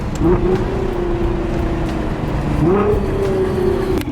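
A Nissan R35 GTR engine holds a steady drone in 4th gear, its pitch rising briefly as it revs, loud and close with constant road noise beneath.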